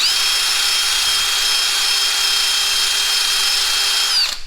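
Wire wheel on a power tool scrubbing rust off a car part from a 2018 Mustang GT track car, a steady loud whine with bright metallic hiss held for about four seconds before it cuts off.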